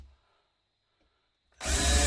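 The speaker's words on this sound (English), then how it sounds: "I'm only screwing and then using the countersink." After near silence, a power drill suddenly whirs up loud and close, driving screws and countersinking, its sharp motor burst lasting through the final half second.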